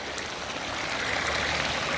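Water flowing steadily through the main outflow of an ecosystem pond into a large tumbling area, a constant broadband rush that stays at an even level throughout with no talk.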